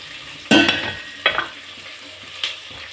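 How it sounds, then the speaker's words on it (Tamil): Onions and curry leaves sautéing in a pan for chicken gravy, sharp sizzles flaring up with a few stirs, then settling into a quieter frying crackle. "வெங்காயம், அடுத்தது கருவேப்பிலை இதெல்லாம் போட்டு இதை போட்டு நல்லா வதக்கிக்கிறேன்."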